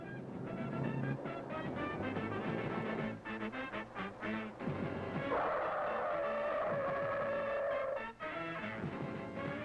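Tires squeal in a long, wavering screech over a running engine as a Ford Pinto or Chevy Vega brakes hard from 50 mph in a road test, the skid sustained for several seconds before easing off.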